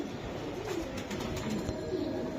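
Racing pigeons coo in low, rolling murmurs that continue throughout at moderate volume over a steady background hum, with no speech.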